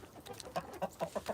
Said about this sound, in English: We're feeding the chickens right now